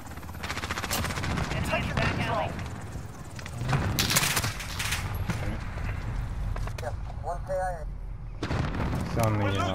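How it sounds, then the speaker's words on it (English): Grenade explosion in Call of Duty Modern Warfare: a loud broadband blast bursts out amid steady gunfire and battle noise, with voices talking over the action. "Grenade out!"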